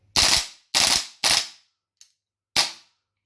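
A 2023 APFG VFC Rattler gas blowback airsoft rifle fires close up, four loud sharp bursts with short gaps between them and a faint click near the end, no voices.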